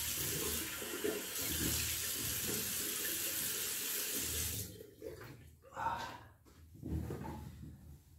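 Cold water runs steadily from a tap into a sink for several seconds, then stops, followed by a few scattered splashes and wet handling sounds as a face is washed after shaving.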